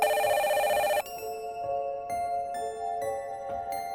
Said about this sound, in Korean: 전화 디스플레이를 보니 발신자는 잭이었어